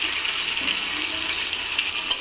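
Chopped garlic and onion frying in cooking oil for a small-fish and radish curry, a steady close sizzle with faint stirring scrapes throughout.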